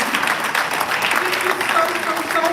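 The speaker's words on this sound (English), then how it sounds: "Let's give a round of applause." After an accord is signed at an occupational health and safety strategy launch, an audience breaks into a full round of applause, thick and sustained, with a voice faintly audible underneath.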